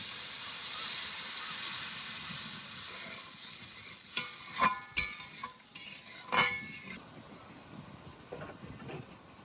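Spice paste fries in oil in a village kitchen, then water is poured in and hisses sharply; loud sizzling settles into quieter bubbling, punctuated by several clanks of a stirring utensil against the pan.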